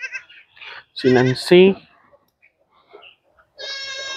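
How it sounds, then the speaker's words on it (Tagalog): Goats bleat in loud wavering cries, several calls close by, with a person speaking briefly between them. "Yung ibang kambing dito"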